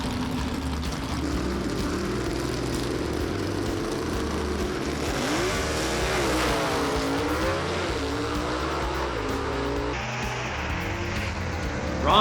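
A 1949 Studebaker truck drag racing at a Southeast Gassers event, its engine roaring as it accelerates down the strip, loud and sustained with rising and falling pitch, alongside other race car noise.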